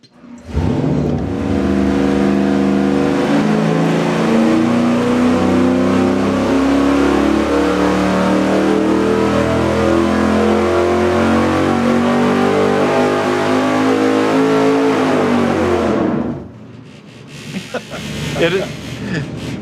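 Engine dyno pull on a Ford Windsor V8 fitted with an Edelbrock RPM intake manifold, a loud, sustained engine roar climbing steadily in pitch for about fifteen seconds before cutting off abruptly, followed by brief voices.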